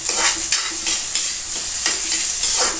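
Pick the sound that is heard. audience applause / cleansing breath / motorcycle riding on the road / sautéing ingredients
sautéing ingredients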